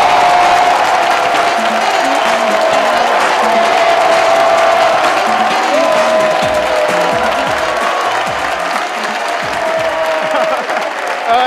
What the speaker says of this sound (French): Un tonnerre d'applaudissements, s'il vous plaît, pour Ludic Boukari.